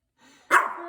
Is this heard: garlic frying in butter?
no